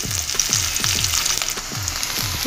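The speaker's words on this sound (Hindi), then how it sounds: "अब ये डालूँगी प्याज। प्याज को मैं हल्का लाइट ब्राउन करूँगी।" Onion frying in about two teaspoons of oil while cooking toward light brown, a loud, close, continuous crackling sizzle with a regular pulsing rhythm from stirring, no voices.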